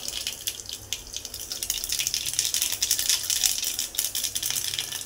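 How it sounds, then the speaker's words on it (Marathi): Mustard seeds hit hot oil for tempering, giving a dense crackling, spattering sizzle that pops irregularly and rises in intensity. "मोहरी घालायची 1 चमचा,"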